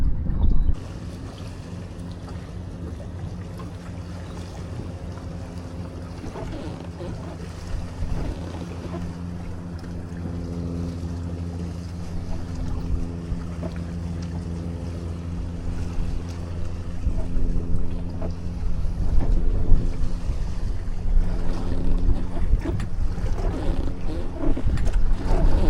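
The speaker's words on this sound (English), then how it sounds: "Look at these waves coming in. Watch the boat start rocking." Wind and waves wash around a small fishing boat on open water, a steady low rumble of buffeting gusts and slapping water that grows louder and rougher toward the end, with no talking.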